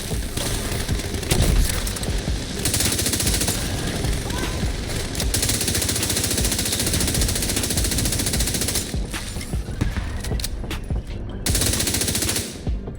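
The Pyromaniac gun in a video game with a fire build, firing in long rapid bursts of loud automatic shots with a few short pauses between them.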